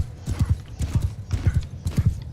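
Hooves clip-clopping in a quick galloping rhythm in the video game Mount and Blade II: Bannerlord, several horses together, steady and fairly close, with no voices.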